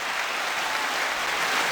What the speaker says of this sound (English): Come on, you can clap louder than that.